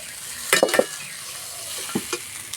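Mixed vegetables and egg fry for vegetable Maggi noodles, with a soft sizzle under a few sharp, close scrapes of a spatula stirring against the pan.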